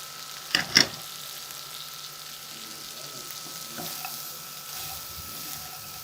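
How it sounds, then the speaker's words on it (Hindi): Capsicum and mixed vegetables fry in a pan with a gentle, even sizzle, opened by two quick sharp clinks of a utensil against the pan, then continuing quietly alone. "सिर्फ 2 मिनट इनको फ्राई करेंगे।"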